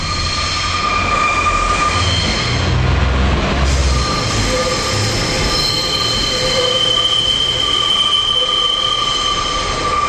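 A Virgin passenger train runs along the rails near Crewe, heard from on board as a loud, continuous rumble with sustained high wheel squeals and a brief low surge early on.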